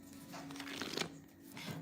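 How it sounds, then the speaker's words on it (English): Tarot cards being shuffled nearby, a soft riffling and sliding of card stock in short bursts over a faint steady hum, quiet and without talk. "All that shuffling."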